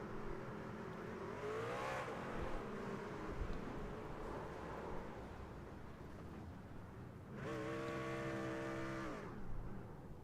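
A race truck engine in a racing video game revs steadily through the gears, with rising and falling harmonic whines, a loud second surge near the end, and no talking.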